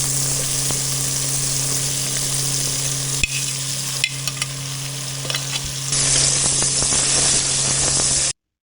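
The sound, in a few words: papaya added to pan, frying with vegetables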